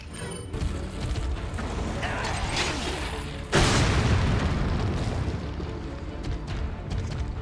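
Grenade explosion in the video game Resident Evil 4 mod Hollow Radiance, a sudden loud boom midway cutting through a dense, continuous game soundscape of rumble and clatter.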